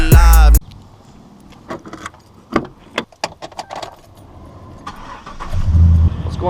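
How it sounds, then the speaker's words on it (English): A truck is readied to warm up: a loud burst at the start, then scattered clicks and jangling keys up close, before a deep engine rumble rises and holds steady toward the end. "Just getting the truck warmed up here to cool it off"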